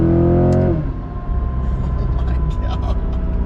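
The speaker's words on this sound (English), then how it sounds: "You can really hear all the air just being sucked in." A car engine fitted with a Halltech Hornet C8 intake revs loudly with a harmonic whine, then falls back to a deep rumbling idle and throaty intake rush, close by with talk over it.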